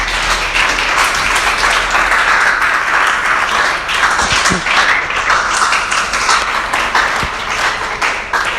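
A church congregation applauds in sustained, loud, dense clapping that fills the hall without a break, with a few scattered voices mixed into the crowd noise.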